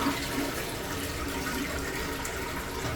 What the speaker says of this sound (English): we'll just wait for that to fill up, and you can tell when that water stops running